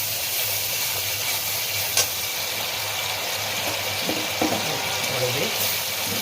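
Hilsa fish pieces hit a pan of mustard-paste curry and sizzle, a steady hiss of frying with a few soft clinks and stirring touches, close and moderate, while someone talks in Bengali.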